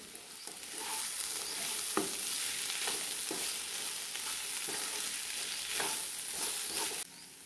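A vegetable dish sautéing with plenty of coriander for an Akshaya Tritiya veg thali: a continuous close hiss of frying with repeated spatula scrapes and knocks against the pan.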